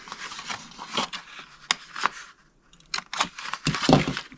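Scissors or a blade cutting around the corners of a cardstock top flap for a Russell Stover chocolate bar treat box, giving short close rasping snips and rubs in separate bursts with quiet gaps between.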